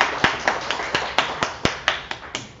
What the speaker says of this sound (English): huge round of applause for Parth